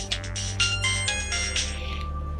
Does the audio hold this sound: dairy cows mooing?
no